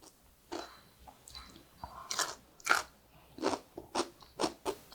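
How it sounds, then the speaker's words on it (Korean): Crisp bites into a crunchy cucumber pickle, several close, loud crunches in a loose rhythm, with soft chewing between them and no talking. "오이 피클의 그 맛인데 너무너무 아삭아삭해요"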